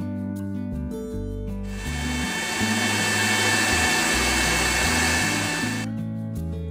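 An electric blender whirs loudly as it mixes muskmelon with milk into a shake. It runs steady and strong for about four seconds, then stops, with the motor hum rising and falling around it.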